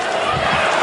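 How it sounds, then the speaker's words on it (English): A boxing crowd roars in a broad, steady wash of noise after a body shot lands in the Vitali Klitschko versus Dereck Chisora heavyweight fight, with a commentator's voice layered over it. "Instant response from the crowd."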